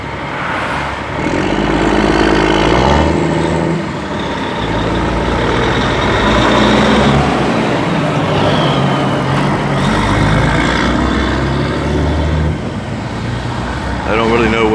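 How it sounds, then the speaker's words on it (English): Dump trucks hauling fill dirt roll past one after another on a pipeline construction site in Central Florida, a steady loud engine rumble with a faint beep near the end, and voices underneath. "they're bringing in dump truck after dump truck of probably fill dirt"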